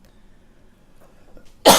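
One loud, sudden cough bursts out close by after a quiet stretch of faint room noise, brief and harsh.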